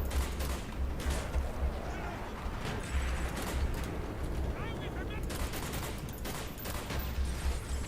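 FAL rifle gunfire in a Call of Duty game comes as repeated sharp bursts of shots over a busy, noisy battle backdrop, loud and close, with pauses between volleys.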